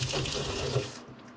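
Running water rinses a long-coated dog during grooming, a steady close splashing flow that stops abruptly near the end.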